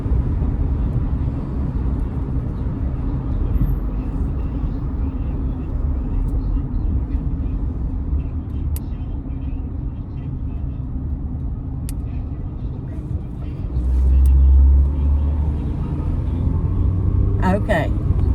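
Inside a car heading home near Augusta, a low road rumble runs steadily throughout, with a brief louder thump partway through, while people talk over it.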